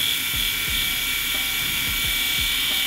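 An electric shaver runs steadily while its blades are sharpened on a diamond stone, giving a continuous close, high-pitched motor whine with faint periodic low thumps.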